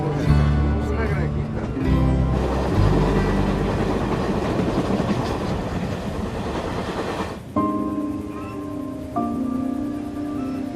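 Steady rumbling rush of the El Chepe passenger train rolling along rails in Copper Canyon, Mexico, loud and continuous, with voices and music-like tones layered over it, ending in quieter sustained tones.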